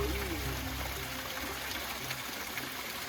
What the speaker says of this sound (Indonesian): Ini air terjun bidadari